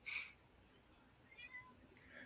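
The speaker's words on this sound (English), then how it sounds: "she'll just look at me and go meow." A house cat meows once, a short, clear and fairly soft call at the start, followed by quiet room tone.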